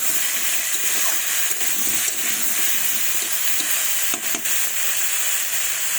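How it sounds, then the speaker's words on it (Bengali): Fish and thorny eggplant frying in a pan, a continuous loud sizzle and hiss with scraping stirring sounds mixed in, close by and without talk. "এবার একটু ভালোভাবে মাখিয়ে নেব, এইভাবে নেড়ে দেবো, দিয়ে ঢাকা দেবো।"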